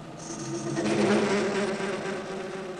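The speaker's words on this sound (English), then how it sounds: "The noise you can hear is called chatter." Lathe chatter from a long bar held in the chuck at one end as the tool feeds into its free end: a steady, buzzing whine with ringing tones, moderately loud and sustained throughout.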